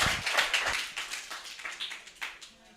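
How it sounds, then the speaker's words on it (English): A small audience claps at the close of a talk evening, a scattered round of hand claps that starts fairly close and thins out over a few seconds. "So please would everyone just give, for everyone I've said, a round of applause."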